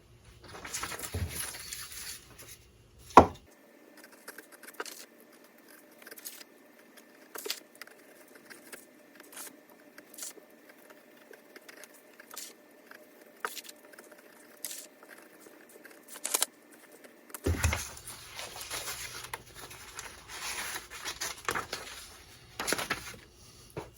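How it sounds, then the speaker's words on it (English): A knife trims the outer edges of a homemade gasket for a vintage 1945 Evinrude 9.7 hp outboard motor, giving soft, irregular scraping and snipping ticks close by, with quiet gaps between cuts. "Now I'm going to take my knife and I'm going to cut the outer edges."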